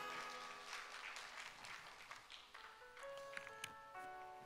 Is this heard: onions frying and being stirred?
no